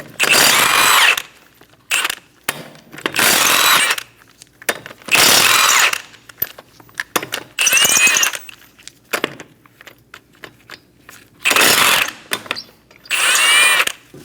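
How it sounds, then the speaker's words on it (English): Power tool fitted with a 21mm socket spinning off lug nuts from the front wheel of a 2008-2015 Scion xB, loud whirring bursts repeated several times with short pauses between them. "Using a 21mm socket, remove the 5 lug nuts."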